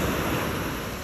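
Ocean waves wash onto a beach in Cancún, a loud, continuous rushing surf that fills the short moment without pause or voices.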